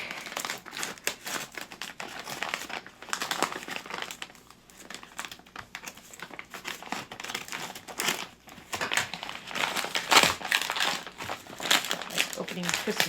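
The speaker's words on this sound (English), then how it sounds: "we will be busting open this pack and opening up some Four Clan cards" A Four Clans booster card pack wrapper crinkles and crumples as it is torn open, close and fairly quiet, in continuous plastic rustles with a sharper tearing burst near the end.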